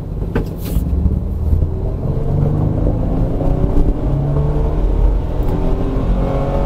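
A Japanese-market Mitsubishi Pajero engine revs up steadily from idle, a continuous loud droning roar that holds throughout, close by and with no speech over it.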